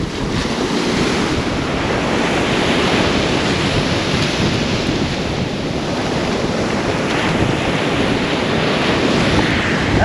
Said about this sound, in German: Echt hoch die Welle, da kann man gar nicht viel weiter reingehen.